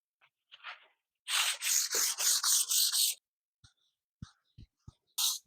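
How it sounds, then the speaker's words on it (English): Light hand sanding along the grain of urethane-coated wood, heard as a series of about six quick, even back-and-forth rasping strokes, close and soft, followed by a few faint taps and one last short stroke. "So I'm light sanding in the same direction as the grain."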